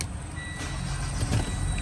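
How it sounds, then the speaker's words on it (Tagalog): A Mitsubishi Montero's engine starts by remote start and settles into a steady low idle, heard alone and close up with a faint high electronic tone above it. "start na agad yung makina"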